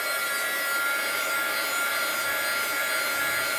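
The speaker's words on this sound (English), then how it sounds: "I'm going to use my heat gun because I want it to dry before I put that" Heat gun blowing steadily to dry craft paint, a continuous broadband hiss and whoosh that stays level and fairly loud throughout.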